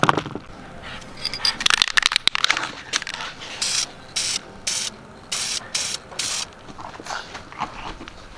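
Brake caliper spray paint hisses from an aerosol can onto a part in short, even bursts, about six close, loud sprays in a row after some rattling and handling noise, with no voices.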